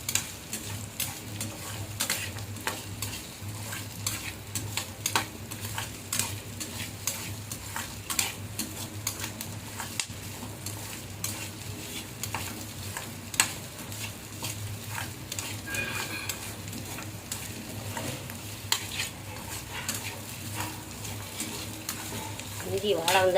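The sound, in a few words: mutton being stir-fried on low flame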